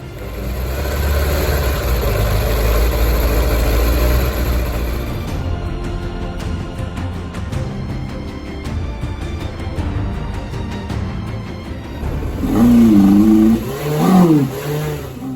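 A 2006 second-generation Suzuki GSX600F motorcycle engine runs up close, droning steadily at first, then settling to a lumpy idle with ticking and clatter before two sharp revs rise and fall.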